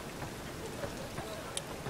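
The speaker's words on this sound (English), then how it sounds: "It's still raining!" Steady rainfall in The Witcher 3: Wild Hunt video game, a soft continuous patter with a few faint drips and ticks, fairly quiet and even throughout.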